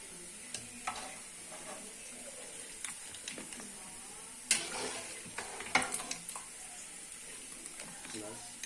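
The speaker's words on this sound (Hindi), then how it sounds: "इसी में इस तरह से हम ये जो बोटी है इसको बस तड़का लगाना है।" Pieces of goat meat sizzle steadily in a pan while being stirred, with occasional scraping and clinks of the utensil, and a couple of louder stirring bursts midway, all fairly quiet with a person talking over it.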